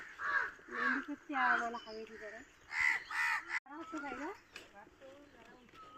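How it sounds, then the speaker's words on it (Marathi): Morning crows caw in a run of loud, harsh calls, with a voice talking among them. "कावळे ओरडायला लागले सकाळच."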